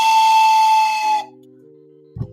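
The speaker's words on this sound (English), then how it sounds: "I did find my train whistle." A toy train whistle gives one loud, steady, shrill tone lasting just over a second, then cuts off, leaving a faint low hum and a brief thud at the end.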